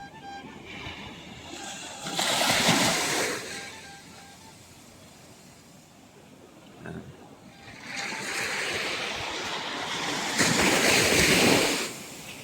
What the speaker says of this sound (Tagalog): Hampas ng alon lang talaga at mga naglalakihan alon.